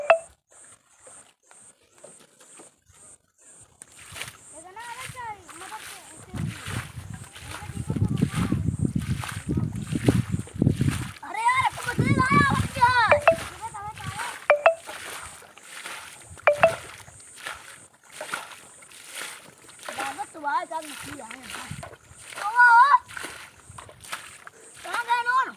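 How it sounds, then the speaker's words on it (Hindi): Water being bailed out of a river spot by hand with slippers while fishing, giving repeated sloshing splashes that come in bursts, loud and close, with people talking throughout. "चप्पल उतार के उलचा"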